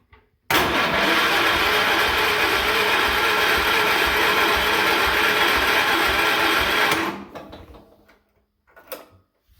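A Cub Cadet engine is cranked over with half then full choke, the starter grinding steadily and loudly for about six seconds without catching, then cutting off into near silence and a few small clicks.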